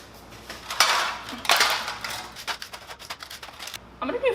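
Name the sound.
folding chia seeds into muffin batter in a bowl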